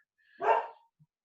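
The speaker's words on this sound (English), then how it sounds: "If I didn't know any better, I'd say one of my dogs is annoyed." A single short, sharp bark from a dog indoors, close and fairly loud, followed by silence.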